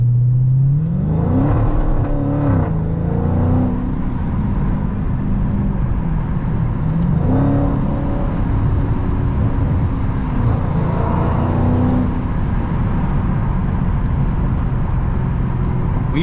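Dodge SRT 392 Scat Pack being driven on a wet road, its loud, close engine rising and falling through several revving surges over steady tire hiss and road noise, with no talking.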